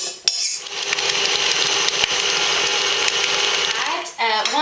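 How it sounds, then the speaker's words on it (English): Soft unsalted butter and sugar being beaten in a bowl for red velvet cupcakes, a steady, loud mechanical whir of a mixer running continuously for several seconds, with a brief knock near the start and a pause just before the end. "we're going to beat those two together"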